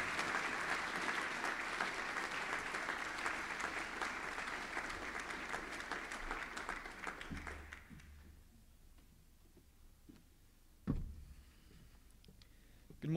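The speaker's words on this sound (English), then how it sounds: "I'd like everybody here to please give him a round of applause" A school hall full of people at a boys' high school prize giving claps steadily for several seconds, then the applause fades out, leaving a quiet space with a couple of soft bumps.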